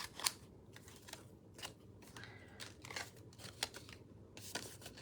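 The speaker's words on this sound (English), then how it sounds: "I'm just gonna fussy cut these" Scissors snip steadily through small pieces of paper, fussy cutting by hand in a quiet room, with close, crisp repeated cuts in an uneven rhythm.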